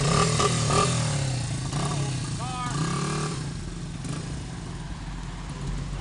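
A 1982 Honda XR80 motorcycle engine running near, a steady buzzing idle with small rises in revs, while someone talks over it.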